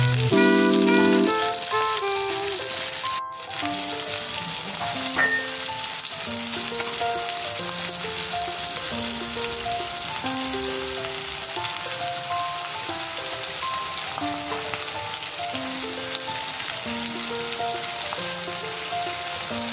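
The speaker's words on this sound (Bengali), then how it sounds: "পুরো ভেজে ফেলব একদম ভেজে ভাজা ভাজা করে ফেলব একদম তেলের সাথে বাদামি বাদামি করে পেঁয়াজ গুলো" Onions browning in hot oil for a home-cooked egg curry, a loud continuous sizzle and spatter like rain on a surface with faint stirring, steady throughout and with no talk.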